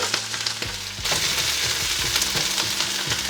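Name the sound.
onion and green chilies sautéing in oil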